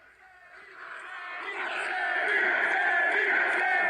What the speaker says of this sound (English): There you can hear the crowd right now going nuts.